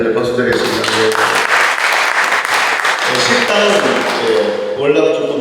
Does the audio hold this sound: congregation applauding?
yes